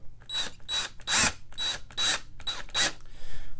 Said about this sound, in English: We got to get these screws backed out so that we can pull the plastic all the way off.